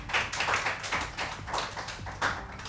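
Studio audience clapping on a Pakistani morning talk show: rhythmic bursts of hand claps in pulsing waves roughly twice a second, moderately close and loud, with no talking over it.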